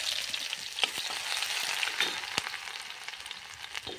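Garlic and ginger frying in hot oil on a home stove, a steady bright sizzle with crackles and a few sharp pops, close and continuous.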